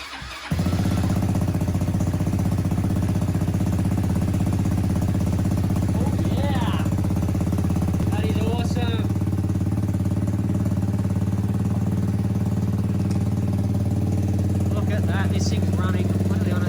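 A small gas engine fitted to a Power Wheels Jeep runs on its own fuel tank, a steady loud droning idle close by with a constant buzzing hum, while people talk briefly over it.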